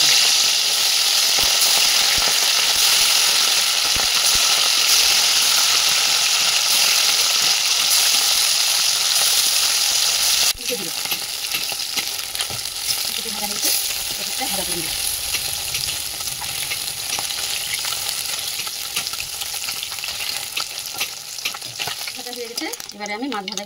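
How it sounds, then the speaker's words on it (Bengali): Puti fish fry in hot white oil in a kadai, a loud, steady crackling sizzle that drops slightly in intensity midway and continues with bubbling spits close up. "এবারে আমি মাছগুলো ভেজে নেব।"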